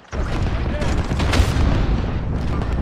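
Gunfire in the Call of Duty Warzone battle royale, a sudden loud burst of booming shots and rumbling blasts that sustains dense and heavy, with a sharp crack partway through.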